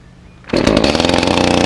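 An Echo CS-310 chainsaw fires up after a quiet moment and settles into a loud, steady two-stroke buzz, close and running alone.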